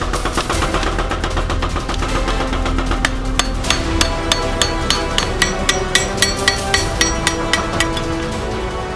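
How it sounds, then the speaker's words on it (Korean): A blacksmith hammers a hot homi, a Korean hand hoe blade, at the anvil, bending and hardening it. Loud, close metallic strikes repeat in a fast, steady rhythm with ringing clinks over a constant forge roar. "각도를 잡는 동시에 호미의 날이 강해지게끔 망치질로 견고하게 두드리는 것이 포인트."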